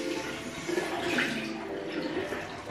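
Tap water runs steadily into a sink as a makeup-removing cloth is wetted, a continuous close splashing stream with no talk.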